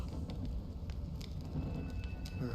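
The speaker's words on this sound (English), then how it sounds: "When will this rain ever stop?" Rain falls steadily in the Honkai: Star Rail video game, a constant soft hiss and patter with occasional brighter drop ticks, with no voices.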